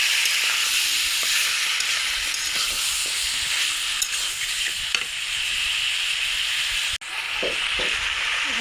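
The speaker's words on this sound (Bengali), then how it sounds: "এই মাংসটা দিয়ে দিব। এখন নাড়াচাড়া দেবো" Beef pieces coated in spices frying in a pan for a gourd curry, a loud steady hiss and sizzle with occasional stirring clinks and scrapes, one brief break near the end.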